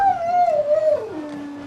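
A dog howls in one long, loud, sliding tone that slowly falls in pitch, heard close and alone without any voices over it.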